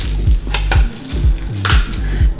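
A spoon clinks and scrapes rhythmically against a bowl while vanilla grass-fed protein powder is stirred in, with sharp repeated taps every fraction of a second, loud and close.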